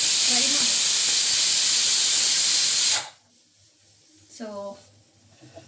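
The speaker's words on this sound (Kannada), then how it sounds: "ಕುರ್ಮಾದು ವಿಜಿಲ್ ಬರ್ತಾ ಇದೆ" A pressure cooker of kurma vents steam with a loud, steady hiss for about three seconds, then cuts off abruptly into near silence, with a brief voice afterward.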